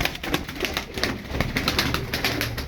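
Game pigeons coo and flutter close by in a short, busy burst of soft repeated calls.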